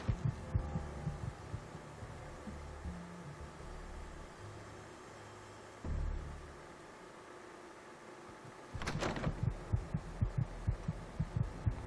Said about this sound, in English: I don't want to hear my heartbeat the rest of the game.